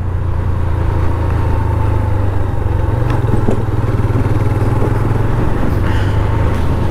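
A 2021 Honda CB 150F motorcycle rolls downhill in second gear, its engine a steady, close, loud low drone with some clatter, running continuously with no talk.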